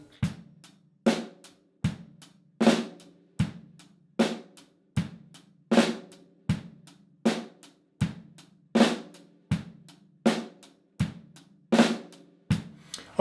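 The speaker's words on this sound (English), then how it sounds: "the right hand is going to come off the hi-hat and play a flam on beat 4" Rock drum groove in straight eighth notes on a kit, hi-hat pulse with kick and snare, the right hand leaving the hi-hat for a snare flam on beat four; steady, close and solo, repeating evenly without talk.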